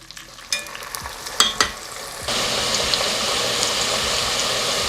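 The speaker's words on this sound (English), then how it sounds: "We're going to fry up the second batch." Potato french fries frying in hot oil for a second batch: a few clattering knocks and stirs early on, then a loud, steady sizzle and crackle of oil that holds to the end.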